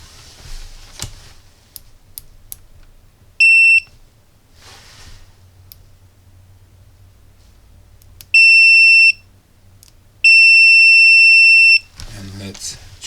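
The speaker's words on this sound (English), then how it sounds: "First thing that I will test is the continuous or beeping signal." A cheap AliExpress multimeter gadget gives shrill continuity beeps, three steady tones of about half a second, one second and a second and a half, against quiet handling noise and a few clicks.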